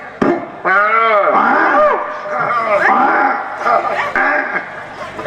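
A cow lets out several loud, close moos in a row, long drawn calls with short breaks between them.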